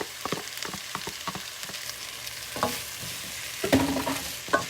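Translucent onions frying with strips of poblano pepper stirred in, a soft sizzle under repeated clattering spoon scrapes and knocks against the pan, close and unhurried, no talking.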